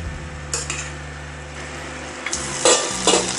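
Cut leek tumbles into a pot of beef goulash, a few soft clatters and scrapes of a spoon against metal over a faint low hum, close and fairly loud, with no talk.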